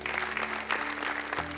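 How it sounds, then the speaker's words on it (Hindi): Loud, steady applause from an audience at a Bollywood karaoke singing competition final, clapping for the three jury members without a break for about a second and a half. "जोरदार तालियां।"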